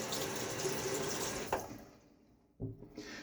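Water runs from a tap to rinse a Timeless SS .68 open-comb safety razor, a close, steady splashing stream that tapers off and ends with a couple of short splashes.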